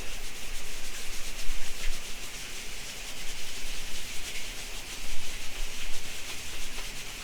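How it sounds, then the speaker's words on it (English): Palms of two hands rub steadily together to build warmth, a close, continuous soft friction hiss that swells and eases slightly, with no voices. "rubbing the palms together, creating warmth"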